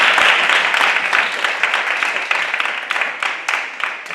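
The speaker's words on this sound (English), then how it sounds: "Give her a nice round of applause" Audience applause fills a student senate meeting room, a steady dense patter of many hands clapping close by that holds for several seconds and tapers slightly at the end.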